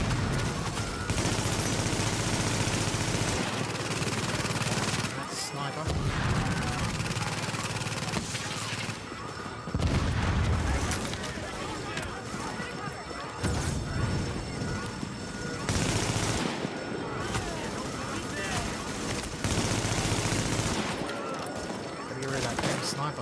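Rapid gunfire and sharp sniper shots from The Division crack through a tense firefight, bursts of loud shooting broken by brief lulls across the whole stretch, with voices calling out over the battle.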